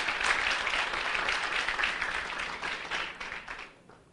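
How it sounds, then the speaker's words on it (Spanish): Dense applause from a church congregation during a Pentecostal teaching session on the Holy Spirit, steady broadband clapping that holds for about three and a half seconds before tapering off. "vamos a aplaudir a la persona del Espíritu Santo que está presente acá"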